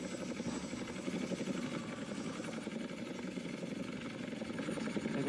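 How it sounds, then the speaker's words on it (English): A helicopter in the video game GTA San Andreas, a continuous rotor chop and engine drone that holds steady and slightly swells toward the end, with no talk over it. "Now land the helicopter."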